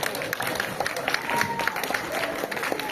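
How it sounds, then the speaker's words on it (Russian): Audience applause for a grand-prix winner at a performance, sounding as steady clapping and crowd noise that runs for the full three seconds at moderate loudness. "Ваши аплодисменты, друзья."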